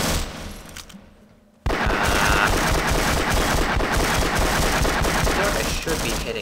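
Rapid bursts of automatic gunfire from a firefight in Half-Life erupt after a brief quiet gap, then keep up a loud, dense rattle of shots.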